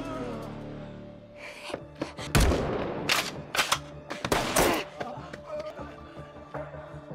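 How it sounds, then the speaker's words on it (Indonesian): Sniper rifle shots ring out in an action film scene, several sharp, loud cracks with reverberant tails spaced over a few seconds amid tense background sound. "Dan Nana menembak Xiaonan yang berlari"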